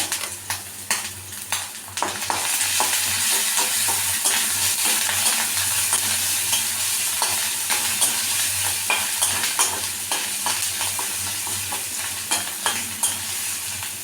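Ginger and garlic paste sautéing in a hot pan makes a loud, continuous sizzle, with rapid scraping and stirring strokes throughout and no voices.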